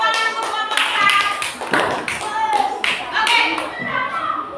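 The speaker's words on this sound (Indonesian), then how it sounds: "Beri tepuk tangan untuk kelompok 4." Children in a classroom clap for a group of classmates, a loose patter of small hands mixed with bright young voices chattering over it, close and lively throughout.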